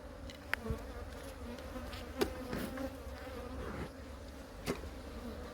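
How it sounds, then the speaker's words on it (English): Steady, dense buzzing of many honeybees up close at an open hive, a continuous drone with a few sharper bumps and clicks. "This is a good box of bees."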